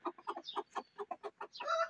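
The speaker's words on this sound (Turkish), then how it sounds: "Tavuklar dışarıda kapışmış." Chickens fighting outdoors cluck in a quick run of short, close notes, ending in a louder, drawn-out squawk.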